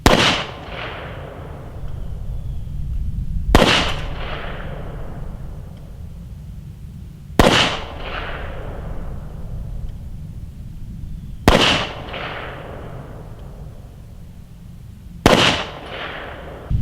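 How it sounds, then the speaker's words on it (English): Five handgun shots fired at a target 15 meters away at an outdoor range, each a sharp loud crack spaced about four seconds apart, with a decaying echo and faint background noise between them. "go ahead and shoot again at 15 meters"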